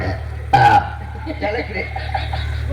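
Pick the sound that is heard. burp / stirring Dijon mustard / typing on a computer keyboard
burp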